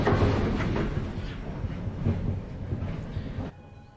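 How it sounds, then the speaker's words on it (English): A train pulling into a station in the video game Virtual Towers Online, a steady rumbling roll with faint rhythmic knocks that cuts off abruptly near the end, with no voices. "as soon as that train comes in"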